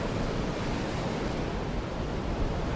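Ocean surf at Sorake beach in South Nias makes a steady, continuous wash and roar with no breaks and no voices.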